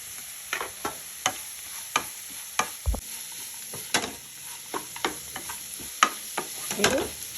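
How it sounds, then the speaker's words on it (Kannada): Carrots fry and are stirred in a pan for an oats dish: a soft sizzle with repeated sharp scraping clicks of a spatula against the pan, spaced irregularly, with no talking. "ಚೆನ್ನಾಗಿ ಕುಟ್ಕೊಳ್ಳೋಣ ಕ್ಯಾರೆಟ್ ಹಾಕ್ತಾ ಇದ್ದೀನಿ"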